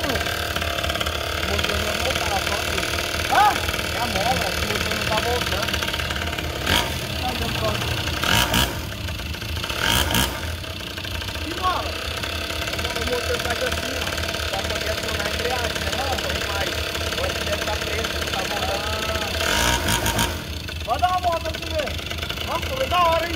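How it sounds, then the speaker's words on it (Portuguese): A modified moped engine idles with a rough, knocking chug that swells briefly in a few revs, heard close up while people talk over it. "é a mola, o motor não tá voltando"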